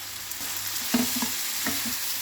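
Steady close sizzling of okra, onions and curry leaves frying in a hot pan, with a few soft stirring knocks.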